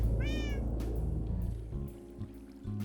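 A cat in a modded Minecraft game gives a single clear meow near the start, followed by a steady low in-game background hum.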